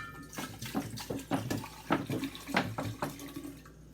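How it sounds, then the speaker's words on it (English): Water poured into jars while making kombucha, splashing and gurgling in uneven bursts close by, with short pauses between pours and no talking. "pour some water in each jar"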